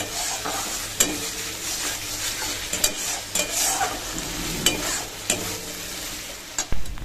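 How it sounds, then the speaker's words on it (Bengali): Spice masala sautés in oil in a pan, a soft sizzle broken by repeated sharp clacks and scrapes of a spoon against the metal. "মশলা থেকে তেল ছেড়ে দিয়েছে, আর মশলাটা খুব সুন্দর করে কষানো হয়ে গেছে"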